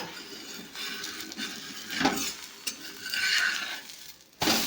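Jowar flour thalipattu flatbread, a North Karnataka dish, cooks on a hot pan just after being flipped, giving a steady close sizzle with scraping stir sounds and a sharp clatter near the end.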